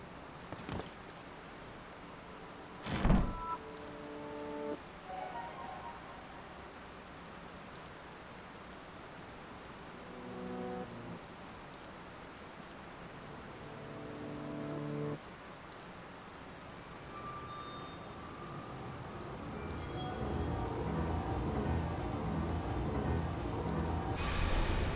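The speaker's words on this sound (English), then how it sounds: "it's still raining outside" Steady rain hiss in The Legend of Zelda: Tears of the Kingdom, with a sharp thunder crack near the start, plus scattered musical tones; the downpour grows louder toward the end.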